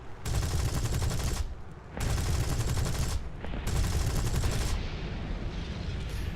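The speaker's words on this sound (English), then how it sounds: "And before my bullets even hit the target, I'm going to start shooting at the next one." Aircraft guns in the War Thunder video game strafe ground vehicles in three long, loud, dense bursts of rapid fire separated by brief pauses, with the last burst trailing off into a steady roar.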